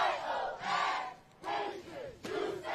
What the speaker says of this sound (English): You can hear the crowd cheering a little bit louder, as you said, for the home team